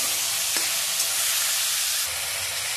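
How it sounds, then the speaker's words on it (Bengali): Boiled peas being stirred into a hot frying pan with sugar already added, a loud continuous sizzle with a few sharp scraping clicks from the spoon, up close and without talk. "এবার এর মধ্যে আগে থেকে সেদ্ধ করে রাখা মটরশুঁটিগুলো দিয়ে দিলাম। মটরশুঁটিগুলো মিশিয়ে দিলাম।"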